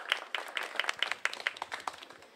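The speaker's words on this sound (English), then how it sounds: "we want to give the facilitators a big round of applause," Small audience at a student health survey presentation giving light, sparse applause, a few distinct hand claps at a modest distance in an irregular rhythm.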